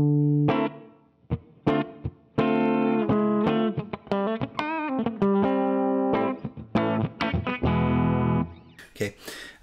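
Electric guitar played on a clean tone through a Roy Electronics Fantasio fuzz pedal, bridge pickup, with little reverb: plucked chords and single notes in an uneven rhythm, close and loud, alone without talk.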